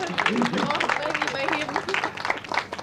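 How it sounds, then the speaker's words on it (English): An audience at a school career fair claps in a dense, continuous round of applause, with voices and crowd chatter mixed in. "Give a big round of applause to both of them."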